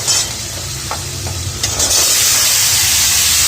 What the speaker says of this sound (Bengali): কড়াইতে আমি তেলের মধ্যে হলুদ আর নুন দিয়ে দিয়েছি। এবার আলুটাকে ভেজে নেব।